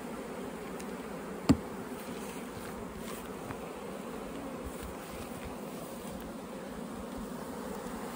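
Honeybees buzz steadily while being moved into hive boxes, a dense continuous drone close by, broken once by a single sharp knock.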